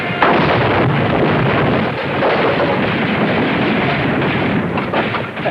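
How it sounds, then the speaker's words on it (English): A big explosion from an air raid erupts as a loud, sustained roar, a dense, rumbling wash of noise that swells in at once and rolls on unbroken for several seconds, with no voices. "That noise, that big explosion."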